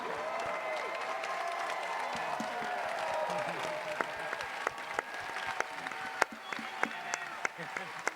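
A large audience at a Comic Con panel in New York for the Ghostbusters Afterlife cast applauds steadily, a dense wash of clapping with a few sharper individual claps standing out near the end.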